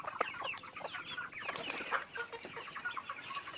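Farm chickens and chicks cluck and chatter in a busy, close flock, overlapping calls continuing without pause over a low background murmur.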